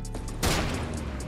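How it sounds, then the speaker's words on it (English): Shotgun blast in a battle-royale style video game: one sharp, loud burst about midway, preceded by faint distant pops, with lingering noise after. "Oh, the shotgun."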